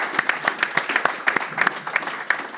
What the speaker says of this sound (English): So quick round of applause for all of those people.